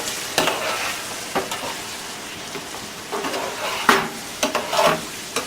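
Sazon seasoning being stirred into a sizzling codfish stew in a pan, with a steady close fry and sizzle broken by several sharper scrapes and stirs of the spoon.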